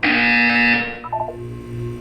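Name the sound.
buzzer sound in Portal 2 video game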